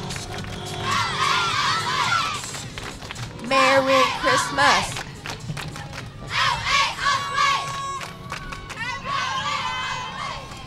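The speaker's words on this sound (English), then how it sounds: "And you hear them cheering right now." A cheer and dance program's squad cheers loudly at a Christmas parade in Concord, shrill young voices shouting in waves over crowd noise, with a voice calling out a holiday greeting.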